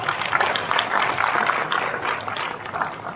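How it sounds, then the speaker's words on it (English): Audience applause at the opening ceremony of a MICE tourism convention in Clark, a steady wash of clapping from a large crowd that holds through the whole stretch without a voice. "Let's give him a round of applause."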